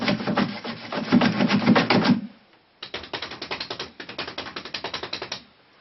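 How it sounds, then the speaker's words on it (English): A paintbrush is swished and tapped in a water jar while painting a landscape scene, making a brisk run of rapid clattering strokes, a short pause, then two more bursts of rhythmic knocking, close and fairly loud. "Let me do another quick rinse of the brush."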